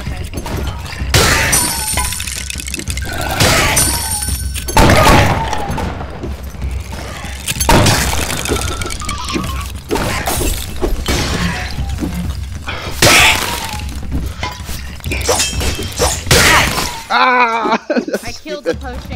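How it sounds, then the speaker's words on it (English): In the Rec Room video game, potion bottles shatter with several sharp, loud glassy smashes spread across a chaotic stretch of play, mixed with other crashes and booms while players talk over them. "I threw a bottle right into myself."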